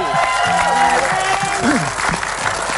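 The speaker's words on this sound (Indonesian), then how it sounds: "Tepuk tangan dulu" A television talk-show studio audience applauds in a steady, loud wash of clapping, with voices and some music-like tones mixed in.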